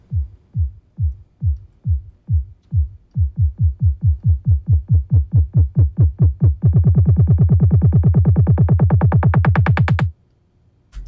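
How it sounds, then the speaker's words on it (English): Dubstep build made from a low-passed filter kick drum, thumping steadily alone and quickening from spaced beats into a rapid roll that brightens as it rises, then cuts off abruptly near the end. "in my builds is I do a filter kick"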